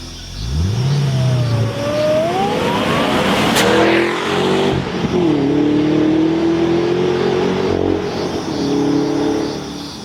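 A supercharged V8 Holden HSV Maloo ute revs hard and close, its supercharger whining as the engine climbs, then settles into a loud, steady exhaust roar with no talking.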